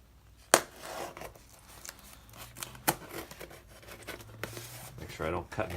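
Knife or blade slicing through tape on the packaging of an SCS DR-7800 HF radio modem box: a few sharp cuts and ripping strokes, close and moderately quiet, with someone talking over them.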